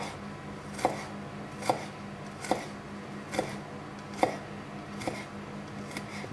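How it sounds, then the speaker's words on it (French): A knife chops thin sticks of food into tiny cubes on a board: sharp, evenly spaced strikes roughly every second over a quiet steady hum, with no talking. "Et les bâtonnets, on va les couper en tout petits cubes."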